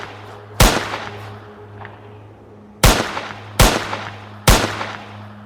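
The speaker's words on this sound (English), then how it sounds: "he pulled his gun and opened fire." Four sharp gunshots ring out in an irregular sequence, the first alone and then three close together, each loud with a reverberant tail over a low steady hum, with no voices.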